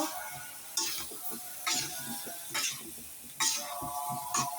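A spatula stirs bitter gourd curry with turmeric and cumin powder in a pan, giving four or five distinct scraping strokes at a steady rhythm over a soft sizzle.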